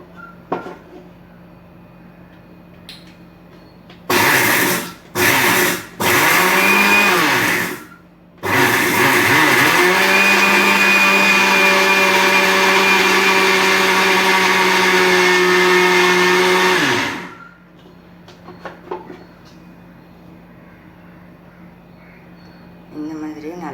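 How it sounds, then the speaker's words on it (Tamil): A kitchen mixer grinder grinds two cloves into powder in loud, steady motor bursts: a few short pulses, then one long sustained whir of about eight seconds, with quiet room noise before and after. "இதை வந்து இப்போ நம்ம வந்து மிக்சியில் போட்டு நல்லா அரைச்சிக்கணும்"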